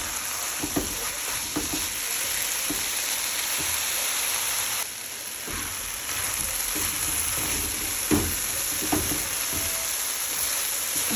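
Dal frying in oil in a pan, a continuous bright sizzle with intermittent stirring scrapes and clicks, close and fairly loud, no voices.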